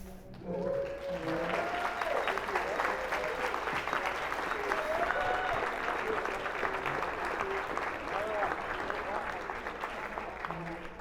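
Audience members at a political event clap in a full, continuous round of applause, with voices murmuring and calling out underneath.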